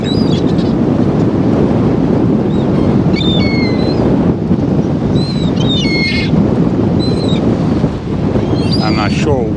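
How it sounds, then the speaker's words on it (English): Heavy wind buffeting a camera microphone outdoors near the sea, a loud continuous low roar across the whole stretch, with faint birdsong above it. "wind is kicking"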